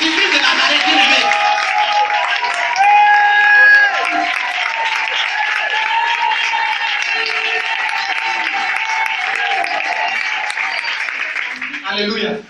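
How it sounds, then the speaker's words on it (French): A church congregation applauds and cheers in a sustained, dense wash of clapping and voices for about twelve seconds, then fades out abruptly at the end. "Acclame Jésus-Christ de Nazareth, bien-aimé."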